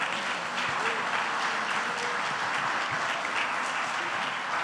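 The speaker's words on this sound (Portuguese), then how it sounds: "Você pode aplaudir o Senhor aí, querido?" Church congregation applauding during a Brazilian online worship service, a steady dense clapping that fills the whole stretch with no break.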